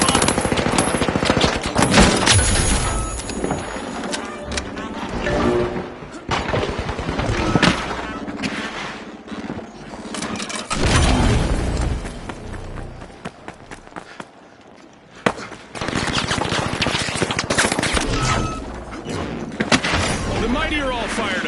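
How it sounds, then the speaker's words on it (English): Stun gun fire in the video game The Finals comes in repeated rapid bursts and thuds across a loud, chaotic match, with a voice talking over much of it. "Stun gun fire."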